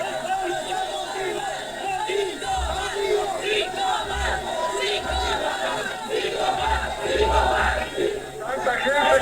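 A large outdoor crowd cheers and chants together for a political candidacy being put forward at the electoral tribunal, a dense, rising roar with rhythmic surges, while a nearby voice talks over it.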